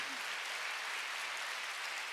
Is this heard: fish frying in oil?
no